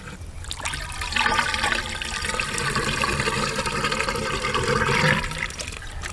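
Water is poured into a pond water pump motor to prime it, a close gurgling, splashing flow that runs continuously for several seconds before easing off, with no talk.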